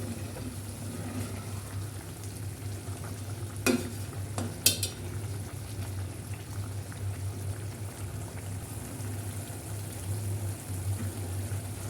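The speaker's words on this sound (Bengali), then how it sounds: "কাঁচামরিচ পেঁয়াজ কলি দিয়ে দিলাম দিয়ে একটু নেড়ে দিলাম" Green chilies and onion stalks stirred into a cauliflower and egg curry in a pan, a quiet continuous simmering hiss with a couple of brief, sharp utensil clinks against the pot partway through.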